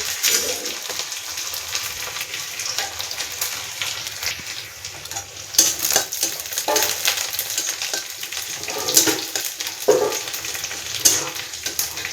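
Onion and dried red chilies fry in a hot pan with a steady close crackle and occasional louder bursts of sizzling and stirring, no voices.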